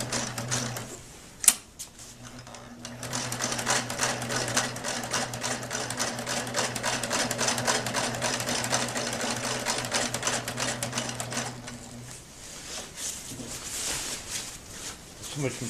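A sewing machine runs a long center stitch through thick tarp material for a DIY camping tarp, whirring steadily and close for about ten seconds before stopping. Speech is heard around it.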